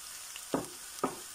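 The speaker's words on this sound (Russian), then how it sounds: "Пусть капустка пожарится." Cauliflower frying with onion in a pan: a soft, steady sizzle with two distinct louder stirring scrapes, close and quiet.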